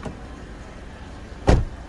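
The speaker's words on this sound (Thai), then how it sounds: "เปิดประตูหน้าขวาประตูขับ ครับ" The front right driver's door of a 2004 Honda CR-V 2.0 E i-VTEC 4WD opens with a single solid, heavy clunk near the end, close and alone over quiet background hiss.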